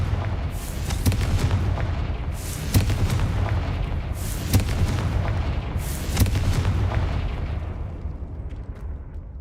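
Repeated booming spell blasts from the Confringo curse in Hogwarts Legacy, five or six heavy explosions in a steady rhythm over a low rumbling game backdrop, with no talking.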